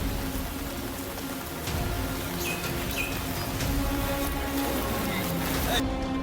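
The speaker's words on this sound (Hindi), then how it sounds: "गुजरात में तेज बारिश जारी है।" Heavy rain falling during a downpour in Gujarat, a steady broadband hiss of rainfall throughout, with faint bird chirps and some background voices mixed in.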